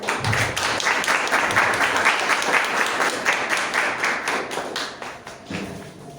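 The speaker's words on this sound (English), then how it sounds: "Please continue clapping" An audience at an education policy event on teacher education applauds the guest of honor and dignitaries, a dense, steady round of clapping that runs for several seconds before thinning toward the end.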